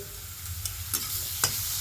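Cabbage is stirred and fried in a pan, with a soft, steady sizzle broken by a few sharp scrapes of the spatula, close and fairly quiet.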